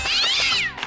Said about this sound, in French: Le système Minoumatique, entre autres fonctions, lave et shampooine votre chat, sans aucune intervention de votre part.